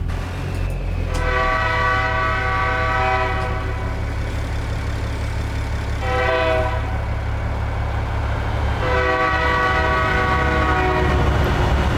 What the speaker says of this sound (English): Oh, and a train's coming.